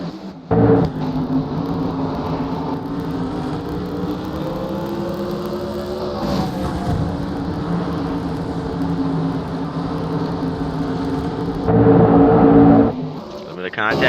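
MG Modified Tour race cars pack together at New London-Waterford, their engines a dense, continuous drone that swells louder near the end, with a voice talking over it.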